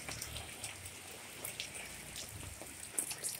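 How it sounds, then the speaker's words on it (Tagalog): Steady rain from storm Agaton falls through the night, a soft continuous patter on surfaces with scattered louder drops, faint and unbroken with no voices. "Tuloy-tuloy pa rin ang ulan ng dalang Agaton."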